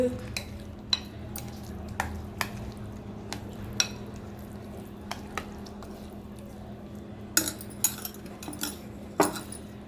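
A spoon stirring wheat rava idli batter mixed with green chili and water in a metal vessel, heard as repeated sharp scraping clinks at irregular intervals over a soft steady background hum, close by.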